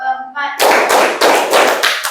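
A classroom of students claps in unison during a counted clapping exercise: a voice speaks briefly, then four or five sharp group claps follow in a quick, fairly regular rhythm, close and loud.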